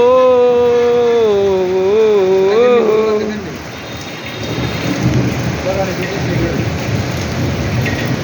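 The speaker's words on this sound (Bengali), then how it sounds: "শুধু বৃষ্টি বৃষ্টিটা উপভোগ করুন সবাই" Heavy rain with thunder pours down in Bangladesh. A wavering, tonal, voice-like sound rises over the first few seconds, then a steady, close roar of rain on surfaces fills the rest.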